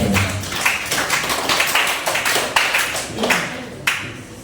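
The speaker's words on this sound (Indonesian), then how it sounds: "Tepuk tangan dulu buat kelompok 1." Applause for group 1 from a small audience in a classroom or workshop session, a few seconds of loose clapping with uneven bursts and sharp individual claps, fairly close and without talk.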